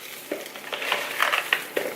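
Everything-bagel seasoning is worked into keto bagel dough with soft, close squishing and crunchy crushing sounds in short uneven pulses.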